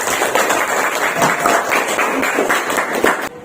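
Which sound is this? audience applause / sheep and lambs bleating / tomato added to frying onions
audience applause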